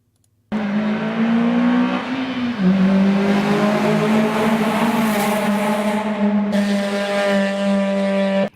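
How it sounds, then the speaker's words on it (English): A Corvette V8 revs steadily and loudly close by, holding a sustained buzzing drone that shifts pitch slightly and climbs higher near the end, with no voices over it. "Does this Corvette not sound like a Honda to you?"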